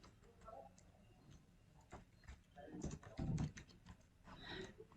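Keys tapped on a computer keyboard while entering a list into a spreadsheet, a run of light, irregular clicks at close range with a few louder clustered strokes.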